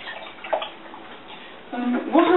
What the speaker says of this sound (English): pour some into a jug